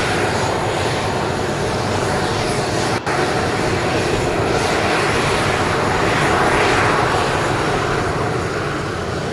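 A Nauru Airlines airliner, just arrived from Townsville at Brisbane Airport, gives off a loud, steady engine roar that holds close and constant throughout, with one momentary dropout partway.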